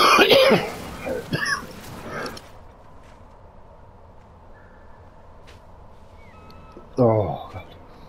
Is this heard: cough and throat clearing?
yes